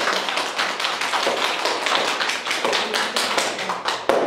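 Audience applause at a kindergarten children's performance for residents of a home for disabled people in Piekoszów, a steady dense patter of many hands clapping close by for about four seconds, with no talking.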